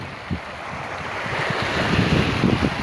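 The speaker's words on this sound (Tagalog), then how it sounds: "Malaking alon." Big waves and strong wind on the seashore at Dapa, Siargao: a broad, steady roar of surf under heavy wind buffeting the microphone, swelling louder toward the end, with no talk.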